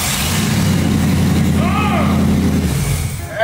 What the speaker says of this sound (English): Now let's start it up open manifolds.